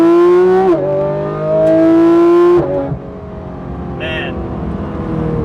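Tuned Porsche 911 GT3 RS heard from inside, the engine revving high with strong tonal harmonics climbing through gear changes, two quick shifts breaking the whine before the note falls away into road and cabin noise.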